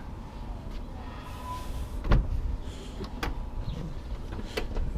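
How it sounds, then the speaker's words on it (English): Power sliding doors on a white 2015 Toyota Sienna Limited minivan close under motor power: a soft mechanical whine with one firm thud partway through, then lighter clicks and latching knocks, fairly near and with no talk. "hit the button and the doors close under power"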